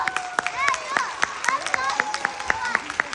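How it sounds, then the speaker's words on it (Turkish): An audience at a second-grade school talent contest claps in a steady, fairly rhythmic patter, with sharp individual claps close by and voices talking over them. "Sonsuza diyenler bir alkışlasınlar."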